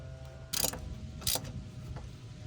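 A ratchet gives two short clicking bursts while tightening the bolts that hold a wheel bearing onto a Hyundai or Kia. The clicks are close, over a low background hum.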